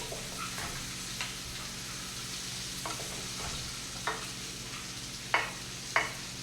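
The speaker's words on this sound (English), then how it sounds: "Once the meatball is golden brown on one side, we're going to make it golden brown on the other side. So flip them." Moroccan meatballs sizzling in a pan as they are turned, a soft continuous frying hiss broken by a few louder clacks and scrapes of flipping, close and moderately quiet, no voices.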